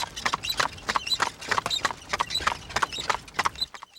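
Hooves of an Amish horse and buggy clip-clop on pavement in a steady, brisk trot, close by, with no voices.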